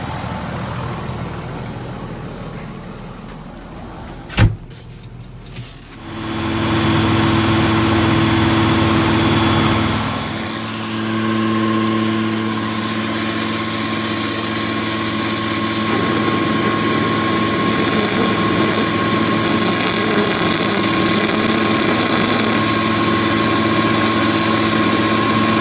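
A tractor engine runs steadily while spreading liquid manure on frozen winter feed wheat; after a sharp click and a few quieter seconds, a loud, close, constant diesel drone with low tonal hum holds for the rest, with no talk.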